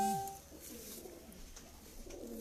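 Sialkot pigeons coo softly and steadily nearby, a low warbling murmur that runs through the whole moment at a faint, even level with no talking.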